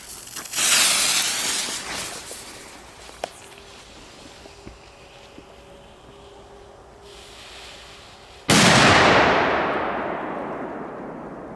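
A crackling burst early on is followed by quieter hissing, then one sharp, powerful boom from a Polish Super Petarda firecracker that echoes and slowly dies away.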